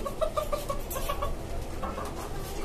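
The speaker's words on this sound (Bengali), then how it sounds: "আমার সবচাইতে পছন্দের মোরগ।" A rooster gives a run of quick, rhythmic clucks, fairly close, on a rooftop chicken farm, over steady low background noise.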